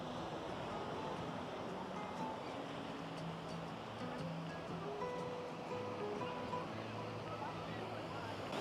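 Surf washes onto a beach at Disney's Lookout Cay in the Bahamas, a steady broad rush of waves with some wind, heard close and continuous while faint voices murmur in the background.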